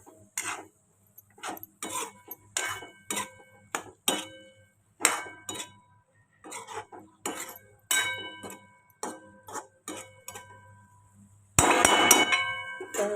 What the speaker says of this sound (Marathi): चला मी ठेवतो झाकण